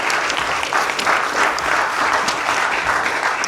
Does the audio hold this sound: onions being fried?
no